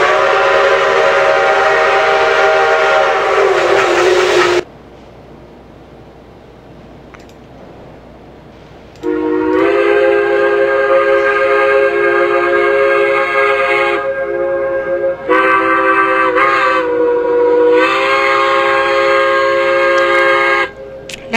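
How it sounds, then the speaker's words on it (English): Steam locomotive whistles from the train simulation game Trainz 2004, loud sustained chord-like blasts: one long blow, a pause, then a lengthy whistle broken by short gaps, alone without talk. "Nice whistle."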